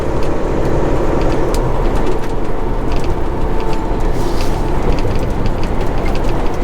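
Steady highway traffic roar on I-90 in Montana, heard from inside a moving truck cab, loud and continuous with constant road rumble and passing vehicles throughout.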